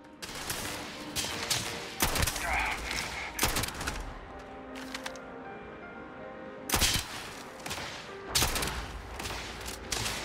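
Gunfire from a gun in Starfield, with several sharp separated shots and short bursts spread across a quieter stretch of ambient game sound.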